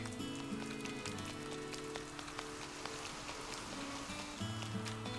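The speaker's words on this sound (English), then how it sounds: "it's raining" Steady rain patters on the ground in Animal Crossing: New Horizons, a continuous soft hiss that runs under light background music the whole time.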